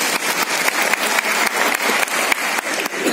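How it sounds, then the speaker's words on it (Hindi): Audience clapping at a Republic Day event at a government medical college in Budaun, a dense, steady burst of applause close by, with no talking. "एक बार ताली बजा दो।"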